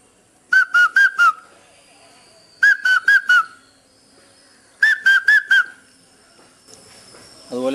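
Three loud, close groups of four quick whistled notes, evenly spaced and with no other sound, imitate the call of the Indian cuckoo, known as the vishu bird.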